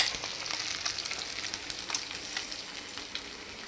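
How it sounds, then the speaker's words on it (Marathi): Rava-coated fish fries in a pan with a soft, steady crackling sizzle close by and scattered spits and pops, and no one talks. "मस्त एका साईडने व्यवस्थित फ्राय होऊन द्यायची"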